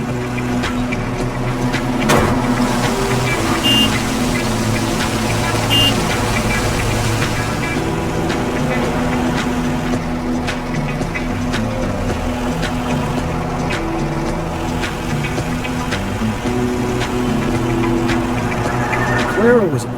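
Food truck engine in Food Truck Simulator, a steady low droning hum that runs throughout while a person talks over it.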